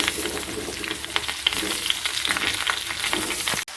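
Jackfruit seeds, pumpkin and green chillies stirred into fried potatoes in a hot pan, giving a steady close sizzle with scattered scraping clicks from the stirring and a brief sharp knock near the end.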